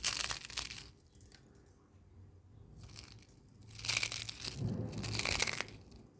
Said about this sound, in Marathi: त्याचा कसा आवाज येतो कुडूम कुडूम त्या पद्धतीने आपली चकली झालेली आहे